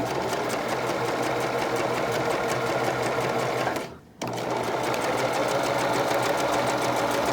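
A sewing machine stitches the side seam of a knit dress, running with a fast, steady mechanical hum and rattle that pauses briefly midway before continuing at the same close, even pace.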